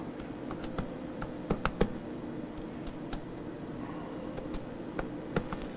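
Clicky keystrokes on a computer keyboard, typed in short irregular bursts with scattered sharp taps over a steady low background hum; no talking.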